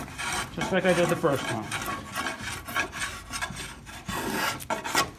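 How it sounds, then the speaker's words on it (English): Wood edge being trimmed during boat building, a raspy rubbing and scraping in repeated strokes, close and fairly loud, with someone speaking briefly partway through. "I might take this and trim just a little bit more right in here"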